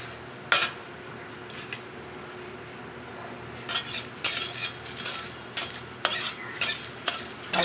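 Whole spices (radhuni, fenugreek, black cumin, dried red chillies, two cardamoms) fry lightly in a pan for mango chutney, with a faint sizzle under repeated sharp clinks and scrapes of a stirring spoon.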